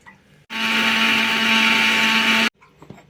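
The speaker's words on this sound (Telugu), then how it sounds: "నేను ఉల్లిపాయలు పేస్ట్ చేసుకుంటున్నానండి" An electric blender grinding onions into paste, switching on abruptly into a loud steady motor whine for about two seconds before cutting off, with quiet kitchen sounds before and after.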